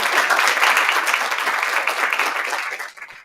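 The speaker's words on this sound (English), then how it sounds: "round of applause for all of our entrepreneurs" An audience at a fireside panel recognizing Alaskan women entrepreneurs breaks into dense, sustained applause, with many hands clapping loudly for about three seconds before the clapping starts to thin out at the end.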